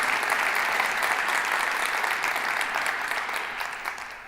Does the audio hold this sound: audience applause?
yes